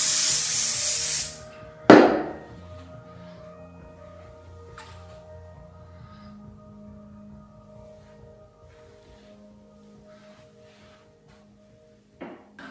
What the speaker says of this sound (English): And then you're just gonna spray a little bit more.